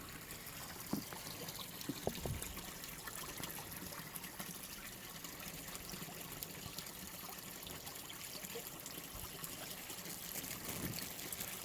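Water trickling gently in a small garden pond with fish, a soft, steady dribbling wash that stays quiet and even throughout with no talk.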